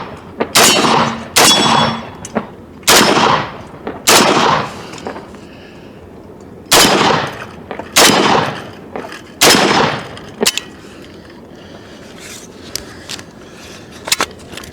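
An AK-47 rifle fires a string of loud, sharp single shots, about a dozen in all. Each crack rings out with a short echo, grouped in clusters separated by brief pauses, then trails off into quiet.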